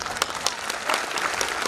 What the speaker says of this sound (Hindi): आपकी जोरदार तालियां प्रतिक्रिया मुझ तक पहुंचे